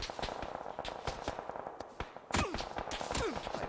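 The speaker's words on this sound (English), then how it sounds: "They're shooting at you." Rapid gunfire crackles in the battle royale game PUBG, with irregular bursts of sharp shots at moderate distance, growing denser and louder toward the end, with a brief voice in the middle.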